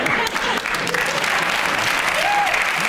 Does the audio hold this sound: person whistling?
no